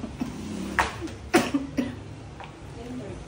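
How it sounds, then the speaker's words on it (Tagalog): Several short, harsh coughs burst out close by from a person with a long-lasting cough in a laundry shop, spaced unevenly over a few seconds against a low room murmur. "parang 2 years na akong inuubo."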